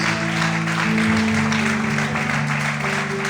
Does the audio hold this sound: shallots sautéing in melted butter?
no